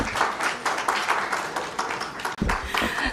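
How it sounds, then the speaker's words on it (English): A conference audience in Kenya applauds, with dense steady clapping from many hands in a large hall. "Another round of applause for the PS MSMEs"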